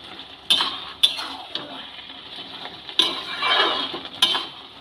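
A metal spoon stirs sugar into shish palong in a pan, giving four or five sharp clinks against the pan with soft scraping between them, close and clear with no talk.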